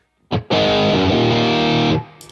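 An electric guitar plays through a TINY V4 stereo rig with the delay switched off and the reverb backed down: a short picked note, then a loud, distorted chord rings out dry for about a second and a half before cutting off.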